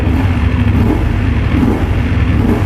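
BMW F750GS motorcycle from 2019 with about 45,000 km, its engine revving up and dropping back quickly, a steady close, loud mechanical drone with no voices.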